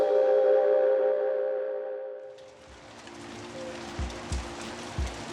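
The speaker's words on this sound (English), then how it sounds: "Oh, what to do on a rainy day such as this." Steady rain falls outdoors on a wet day, starting after a sustained musical tone fades out, then continuing as a broadband hiss with a few louder low thumps of drops striking a surface.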